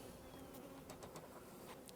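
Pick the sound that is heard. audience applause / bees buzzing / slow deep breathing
bees buzzing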